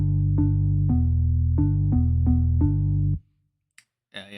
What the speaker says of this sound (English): The actual organ 2 sounds like this.